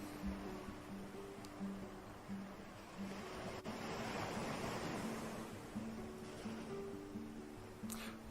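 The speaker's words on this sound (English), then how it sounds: "And this is the sea." Sea waves washing onto the shore in a continuous soft wash of surf, steady and moderately distant with light wind, no voices.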